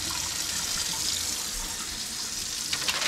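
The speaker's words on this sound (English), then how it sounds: "We wanna give them a nice clean bath in cold water before we go ahead and put them on our pan." Cold tap water runs steadily over red drum fillets in a sink, a continuous close hiss of splashing water that stays even throughout with a slight shift near the end.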